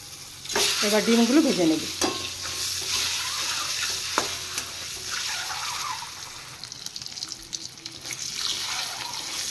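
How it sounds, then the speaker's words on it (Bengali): Duck eggs frying in oil seasoned with turmeric and salt, a steady close sizzle with stirring and utensil scrapes, briefly louder near the start. "এবার ডিমগুলো এখানে ভেজে নেব।"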